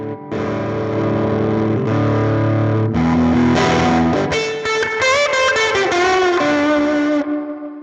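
Electric guitar run through a JHS drive pedal plugin by Mixwave, playing loud, distorted sustained chords followed by a quicker melodic lead line, thick and saturated with a touch of reverb, no voices over it.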